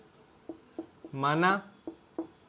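Pen or chalk writing while working a class 8 math problem: a handful of short, sharp strokes spaced through the moment, fairly close, with a brief burst of voice over them in the middle.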